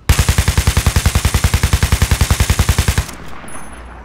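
Automatic gunfire in Battlefield 3 on Xbox 360, a rapid, evenly spaced burst of loud shots, about ten per second for three seconds, then abruptly stopping into quiet.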